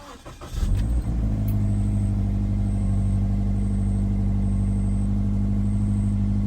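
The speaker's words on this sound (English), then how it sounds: "Start the engine." A 2017 Toyota 86 engine cranks and catches, then settles into a steady, even idle that runs on alone.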